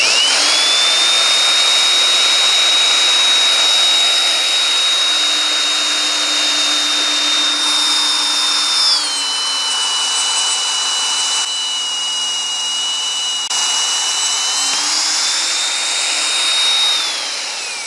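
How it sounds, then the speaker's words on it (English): A steady, loud high-pitched whine of a heavy drill boring holes through thick steel plate, its pitch dipping under load midway and rising again, running continuously without talk. "clear that out, and then I'll keep drilling."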